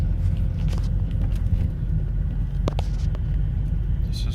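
A 2003 Volvo XC90 T6 pulls along in second gear, its steady low engine and road rumble continuous and close, with some wind buffeting and a few light clicks over the drone.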